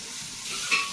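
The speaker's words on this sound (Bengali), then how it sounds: "মাছ ভাজছে" Fish frying in a pan, a steady bright sizzle heard up close and fairly loud for a short moment, with a faint clink near the end.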